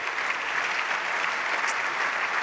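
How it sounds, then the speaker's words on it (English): Steady, even applause from a conference audience at a national defense forum closing session, continuous clapping at moderate volume with no pauses. "A round of applause for their support and participation."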